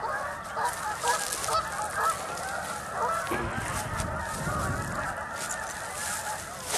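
A flock of geese honks loudly and continuously at McLaren Island on the Long Sault Parkway, with many overlapping, agitated calls close by over steady outdoor background.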